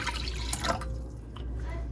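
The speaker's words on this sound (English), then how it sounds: "To the saltfish we're going to pour some water," Water splashes and pours briefly over saltfish over a steady low hum, then tapers off into quiet background noise.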